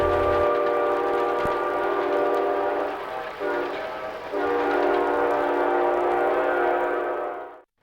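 The Guilford Executive Train passes in snowy conditions, sounding a long, loud, sustained horn chord that briefly dips and swells before resuming, then cuts off abruptly, with rail rumble underneath and no voices.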